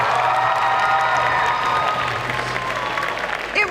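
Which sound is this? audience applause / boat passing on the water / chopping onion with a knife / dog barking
audience applause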